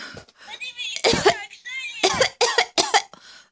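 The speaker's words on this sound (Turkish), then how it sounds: "çok öksürüyor" Several harsh, bursty coughs in quick succession, close and loud, with short pauses between them.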